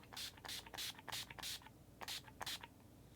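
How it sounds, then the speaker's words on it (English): Urban Decay All Nighter makeup setting spray mists in about seven quick hissing pumps, close and fairly quiet, arriving in two bursts with a short pause between them. "I'm going to use the Urban Decay All Nighter Makeup Setting Spray"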